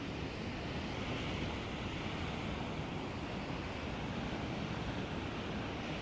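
Sea waves breaking at the shore, a steady, dense roar of surf with wind noise on the microphone, continuous and loud for the whole stretch with no voices.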